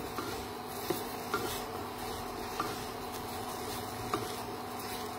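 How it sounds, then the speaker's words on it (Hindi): Whole wheat flour being stirred into a cooking mixture: soft, continuous rubbing and scraping with a few faint utensil taps against the pan, quiet and close under a low background hum. "और इसको भी हम मिक्स कर लेंगे इसी के साथ."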